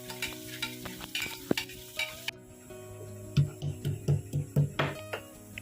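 Onions and mustard seeds frying in a pan, with a low sizzle under a run of rhythmic spoon stirs and scrapes that grow louder and more regular toward the end, close by and without talking.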